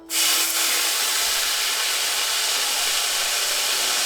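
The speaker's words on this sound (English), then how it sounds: "First, we're going to cook the bacon and then set that off to the side." A full package of bacon sizzles in a pan, a loud, steady hiss that starts abruptly and holds evenly, with no talking.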